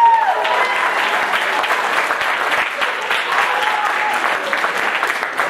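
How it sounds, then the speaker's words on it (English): Steady, dense applause from a talent show audience, loud and continuous for several seconds with no pauses, filling the room as a whole crowd claps together. "Give a round of applause."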